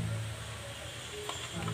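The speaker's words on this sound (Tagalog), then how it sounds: "Ayan, mga lalabs, mainit ang ating kawali. Lagyan na natin ng ating mantika." Cooking oil sizzles in a hot frying pan, a steady close hiss with a brief stirring clatter near the end.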